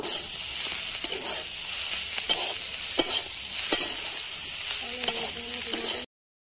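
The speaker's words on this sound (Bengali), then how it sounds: "অল্প তেল দিয়ে এটাকে ভালো করে নেড়ে এটাকে ভেজে নেব।" Potatoes with onion and green chilli frying in a little oil, a soft continuous sizzle broken by repeated scraping stirs of a spatula against the pan, close and fairly quiet.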